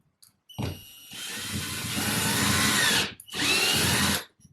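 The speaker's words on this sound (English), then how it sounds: "So I will just drill in." Power drill boring into a wall to fix a support for a houseplant shelf, a close whining burst about two seconds long, a brief pause, then a second shorter burst.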